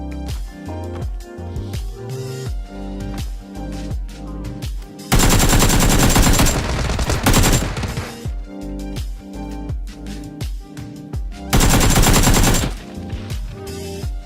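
Rapid automatic AK rifle fire in PUBG on the Vikendi map, loud close bursts with sharp repeated shots and two long sustained volleys, over other game sounds.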